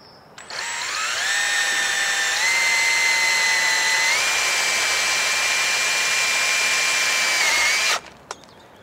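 A power drill drives a screw through a greenhouse frame's bottom strap into the purlin, a loud steady whine lasting about seven seconds that steps up in pitch twice as the speed rises, then cuts off abruptly.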